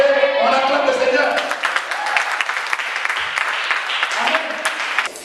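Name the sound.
church congregation applauding to acclaim the Lord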